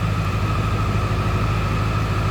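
A 2001 Ford Excursion's Power Stroke diesel engine runs at a steady low rumble, heard close and continuous with an even, unchanging drone.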